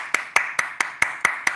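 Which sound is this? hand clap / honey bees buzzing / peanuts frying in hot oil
hand clap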